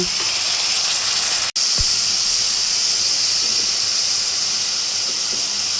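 Ginger garlic paste hitting fried onions in a hot pan sizzles as a steady, loud hiss, with a brief dropout partway through and no talking over it.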